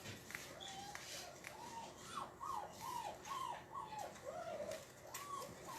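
Puppies shut away indoors whine in a series of high, rising-and-falling whimpers, faint against a hissy background, repeating every half second or so.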